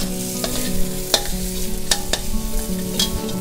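Ingredients are stir-fried in a pan over low heat, giving a soft continuous sizzle broken by sharp scraping strokes of a spatula at irregular intervals, close and with no talking.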